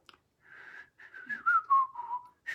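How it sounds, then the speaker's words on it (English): A person whistles the Lost in Space theme song, a lone melodic tune in short phrases with gliding pitch, moderately loud and close, with no talking over it. "I could actually whistle the theme song to Lost in Space."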